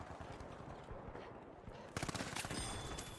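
Rapid bursts of automatic gunfire from a video game, a dense rattling stream that grows louder and sharper halfway through and continues to the end, with no talk over it.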